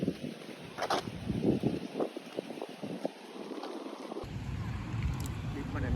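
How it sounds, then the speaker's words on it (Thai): Strong wind buffets the microphone during an outdoor long run, a rough, gusty roar that swells and stays loud throughout, with someone talking briefly over it. "ลมแรงสุดๆเลยวันนี้ วิ่งต้านลมครับผม"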